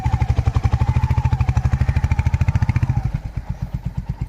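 A Royal Enfield Hunter 350 motorcycle rides out at the start of a long road journey, its engine a close, loud, rapid and even thumping that loosens slightly toward the end, with no voices.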